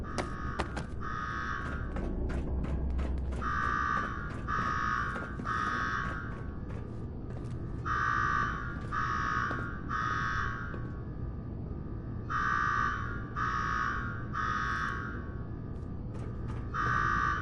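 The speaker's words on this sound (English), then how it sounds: "Now go shut off that damn alarm" An alarm blares across Nuka-World in Fallout 4, sounding in repeated groups of three harsh buzzing tones separated by short pauses, loud and steady over a low ambient rumble.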